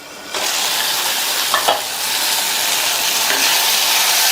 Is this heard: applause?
no